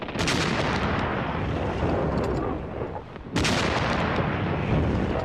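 WWII artillery bombardment from June 1940 rumbles as dense, continuous booming and crackling, loud throughout, easing briefly near three seconds before a fresh, sharp blast resumes the barrage.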